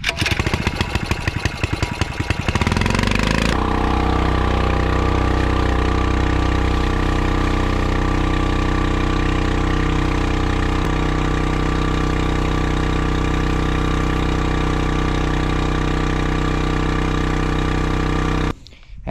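A fire suppression trailer pump engine roars loud and steady at full throttle, its pitch dropping after a few seconds as it is throttled down to a steady run, then cutting off at the end.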